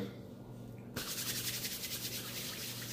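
A soft, steady rubbing of beard product worked into a beard by hand begins about a second in and continues close and quiet to the end.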